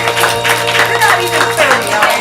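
Audience applause at a live theater show in Portland, a steady wash of clapping from a crowd with talk over it, continuous for a couple of seconds.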